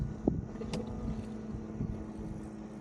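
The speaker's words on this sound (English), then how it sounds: "Boat traffic is starting to show up." Faint, distant hum of motorboats passing on a river, mixed with soft wind buffeting the microphone.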